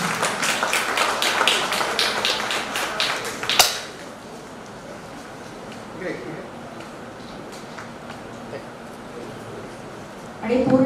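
A hall full of people claps for a guest at a certificate distribution program, brisk rapid applause for about three and a half seconds that stops abruptly, leaving quiet room tone and faint sounds.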